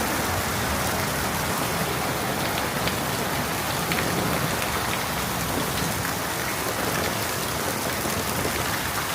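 Heavy rain pours steadily, a dense unbroken hiss of drops on surfaces with no voices.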